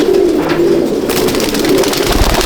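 Pigeons coo in a breeder's loft of Andhra champion birds, a steady low murmur of soft cooing with rustling and a brief thump near the end, close and continuous.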